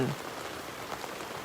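Steady rain falls on a road in southern Thailand, a dense, even hiss of drops on the surface that holds at one level throughout, with no voices.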